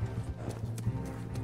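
Steady clip-clop of horse hooves at a trot in the video game Red Dead Redemption 2, close and continuous, with a few louder thuds over a low background hum.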